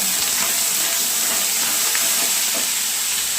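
Turmeric powder fries in oil in a pan, producing a constant close sizzling hiss with faint stirring underneath.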